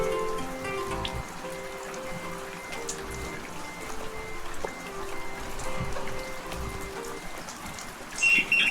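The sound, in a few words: rain falling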